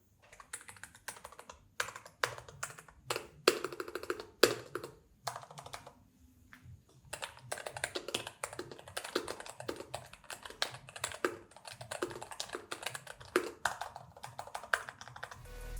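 Someone types on a Skyloong Coral Sea themed keyboard: close, rapid, irregular keystroke clicks that run for about sixteen seconds with a brief lull near the six-second mark, and no talking.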